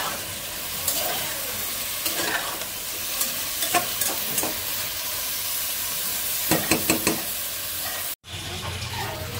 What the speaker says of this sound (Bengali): জিরা আর পেঁয়াজ ভেজে দেবো।